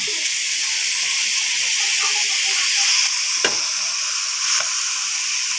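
Broccoli being added to a hot frying pan, giving a steady bright sizzle and hiss throughout, with a couple of brief sharper crackles or stirring knocks near the pan.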